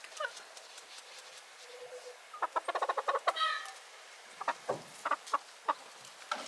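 Homestead chickens cluck close by in bursts of quick short clucks, with a faint low call and scattered single clucks in a quiet outdoor setting.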